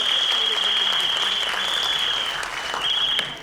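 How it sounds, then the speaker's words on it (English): An audience at a kids' school annual day claps loudly and steadily throughout, a dense sustained applause that tapers slightly near the end. "You have to give them applause."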